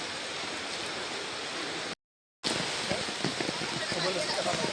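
Rain pours steadily in a continuous hiss, briefly cut by a moment of silence before resuming with some nearby movement.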